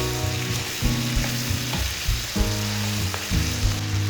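Charsi korma sizzles loudly in a pan, a steady close-up frying hiss broken by regular stirring scrapes.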